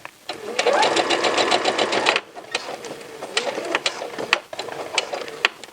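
A sewing machine stitches cropped pants in a fast, steady run of needle strokes for about two seconds, then breaks into shorter, uneven bursts with pauses as the fabric is guided.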